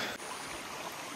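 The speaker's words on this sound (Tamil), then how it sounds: "பாருங்கள், இங்கேயும் தண்ணி போகுது." Water from Anguthi Sunai Falls rushes steadily in a stream, a dense, even broadband wash heard close and alone in a brief burst.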